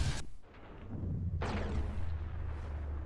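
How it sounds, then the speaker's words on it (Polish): Gas pipes exploding in the Sniper Elite V2 video game: two heavy booming blasts in quick succession, each followed by a rumbling roar that lingers loudly. "I tak wybuchają rury z gazem."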